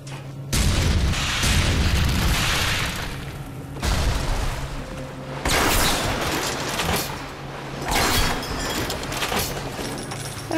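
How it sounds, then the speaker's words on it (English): Booming blasts in BioShock from exploding crossbow bolts, several heavy bursts a couple of seconds apart, each a loud crack followed by a rumbling tail, with no talk. "Ah, the crossbow is such a nice weapon. I blew her right up."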